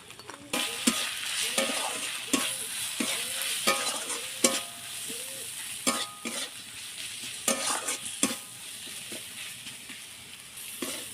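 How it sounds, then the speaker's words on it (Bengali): A spice mixture of turmeric, chilli and roasted cumin, coriander and fennel with soybean chunks fries in a pan while a spatula stirs it, giving a continuous sizzle broken by repeated scraping strokes, close up and with no talking. "সব মশলাটা একটু ভালো করে কষিয়ে নিয়েছি।"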